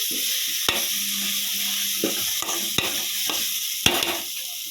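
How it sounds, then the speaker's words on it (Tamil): Food sizzles steadily in a hot pan while a spoon scrapes and clicks against the metal at irregular intervals. No one speaks. "நல்லா கொஞ்சம் நேரம் வதங்கட்டும் அந்த பச்சை வாசம் போகிற அளவுக்கு வதக்கி தரணும்"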